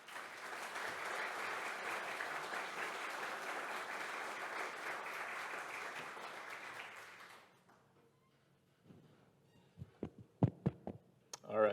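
An indoor audience applauds steadily for about seven seconds to welcome a speaker at a talk on the U.S. Post and the American West, then the clapping stops abruptly, leaving quiet handling noises and a few sharp knocks.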